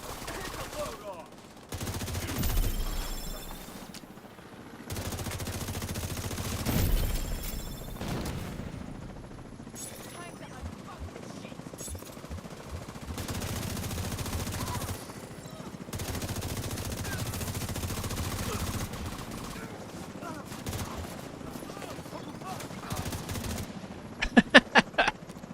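Bursts of automatic gunfire from Tom Clancy's The Division 2, loud rattling volleys separated by short quiet gaps, with sharp single shots near the end.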